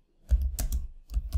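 Quick bursts of keystrokes on a computer keyboard, close and crisp, a few clacks in a brief uneven run with a short pause between.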